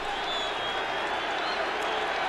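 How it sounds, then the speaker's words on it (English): A packed stadium crowd at a 1980 NFL game between the Philadelphia Eagles and New York Giants roars in a loud, unbroken wash of noise, steady and undifferentiated with no pauses. "the crowd is making a lot of noise"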